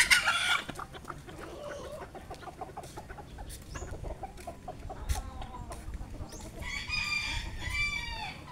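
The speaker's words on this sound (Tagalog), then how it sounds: "chicken." Chickens cluck and a rooster crows on a farm, moderately close, with busy, overlapping clucks and a crow near the end, over quiet outdoor ambience.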